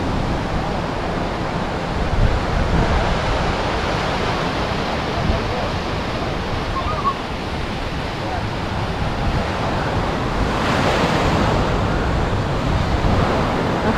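Surf washing onto a beach at a Lombok holiday resort, a steady broadband roar with gentle swells and some wind buffeting the microphone, continuous throughout with a faint voice underneath.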